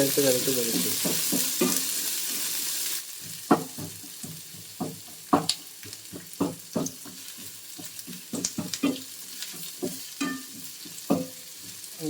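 Onion and ginger paste sautéing in a pan for a Kerala toddy-shop style clam fry: a steady sizzle with repeated spatula scrapes and knocks against the pan, close and fairly loud, with no talking.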